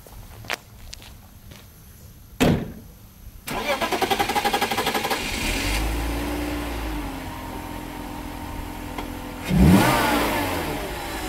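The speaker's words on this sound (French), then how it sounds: "Donc là on va démarrer, débitmètre débranché, donc elle tournera impeccablement sur 6 cylindres" A BMW 325ti with its airflow meter disconnected cranks and starts after a few clicks and a footstep, then settles into a steady close idle with a brief rev near the end.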